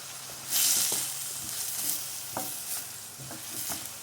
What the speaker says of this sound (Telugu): మనం ఆనియన్తో పాటే ములక్కాయలు కూడా యాడ్ చేసుకుంటే బాగా మగ్గుతాయి అన్నమాట.